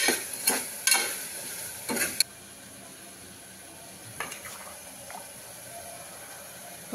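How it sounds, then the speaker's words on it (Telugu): Marinated mutton drops into a pan of fried onions for a mutton gravy, giving several sharp sizzling bursts and scraping stirs in the first two seconds, then a quieter simmer broken by occasional stirring clatters. "ఆ మటన్ అయితే వేసుకోవాలి"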